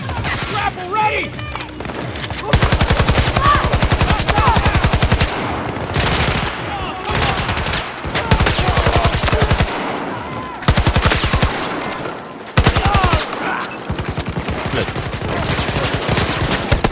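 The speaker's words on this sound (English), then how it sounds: "They're shooting at me!" Call of Duty gunfire: dense, rapid automatic bursts of machine-gun fire in long rattling volleys with short gaps, loud and close, mixed with game voices and battle noise.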